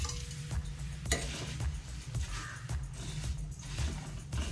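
Puffed rice lemon chivda is stirred in a pan, a continuous dry rustling scrape with repeated rhythmic strokes of the spoon over a low steady hum, close and fairly loud, no talk.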